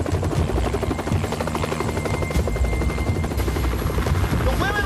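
A helicopter's rotor chops rapidly and steadily, loud and close, filling the whole stretch with a pulsing thud.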